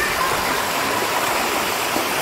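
Steady, dense rush of a waterfall on a mountain stream in Dikili, a continuous broadband roar close by and unbroken throughout, with no voices over it.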